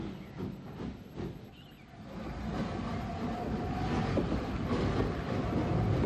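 Former Southeastern and Chatham P-Class 0-6-0 steam tank locomotive number 27 shunting at a harbour, with a low rumbling of rolling stock and hissing steam that dips briefly and then builds to a steady, moderately distant roar.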